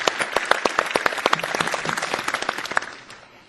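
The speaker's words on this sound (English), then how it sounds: "So we'll start with applause for Luke." Audience applause at a technology conference opening keynote, steady dense clapping from a large crowd that fades out toward the end.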